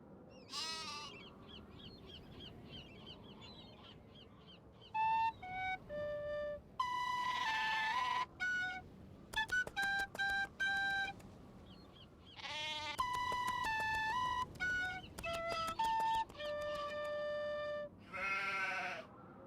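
Sheep bleat in a video game, The Haunting of Castle Malloy, as a string of short, bright, repeated calls over a quiet background, without talk.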